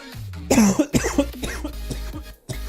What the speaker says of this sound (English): whenever I start coughing, I sound like one of those squeaky toys